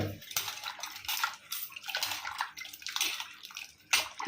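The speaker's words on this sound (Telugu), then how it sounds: "నీళ్ళు పోసి శుభ్రంగా కడుక్కొని" Water splashing and sloshing while something is rinsed clean in a home kitchen, a close series of uneven wet gushes and swishes with faint clinks of a vessel.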